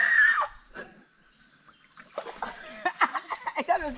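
Water splashing as people bathe in a village river, a brief splash at the start followed by a quiet gap and then excited voices and shrieks close by.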